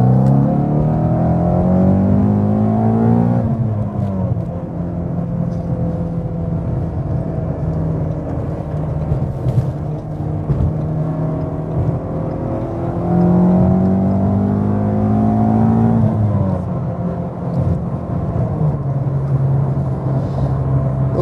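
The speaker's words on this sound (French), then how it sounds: "j'ai accéléré un peu, deuxième, troisième" A car engine revs up through the gears, pitch climbing then dropping at each shift, a steady loud drone with two clear upshifts.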